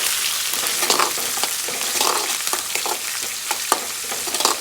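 Green chillies crackling and sizzling in hot oil for a pickle, a dense fry hiss broken by sharp pops and spatters, with no voices.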